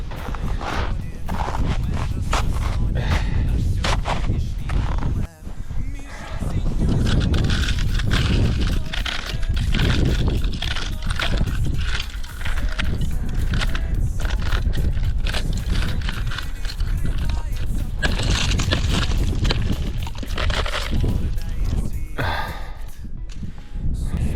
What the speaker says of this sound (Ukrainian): Прорубую сніг, корку з льоду і роблю глибокий слід, щоб було видно, куди я прийшов.